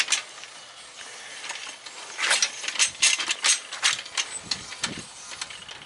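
Tool cranked down while sharpening lawn mower blades, a close series of ratcheting clicks and mechanical creaks that grow louder midway and then ease, with no voice.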